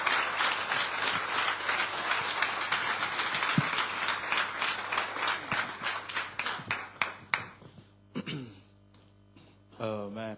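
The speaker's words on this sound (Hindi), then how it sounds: "यहां पर जोरदार तालियां खुदा के खादिम के लिए." Loud, dense applause from a church congregation at a revival convention, a steady wash of many hands clapping that thins into scattered claps before a voice begins speaking.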